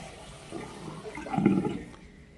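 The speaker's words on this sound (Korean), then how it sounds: "한번 더 누르면 물이 빠지고요" Water drains from a washbasin through a one-touch pop-up drain, a short gurgling rush that swells briefly and then fades, heard alone.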